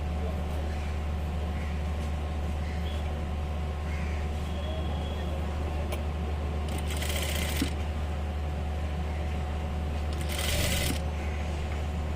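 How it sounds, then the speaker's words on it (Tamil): A sewing machine stitching a petticoat seam runs with a continuous low hum and steady rapid needle chatter, with two brief louder bursts of rustling fabric. "இதுக்கும் அந்த மடிப்பு தையல் மாதிரி போட்டுக்கிறேன்"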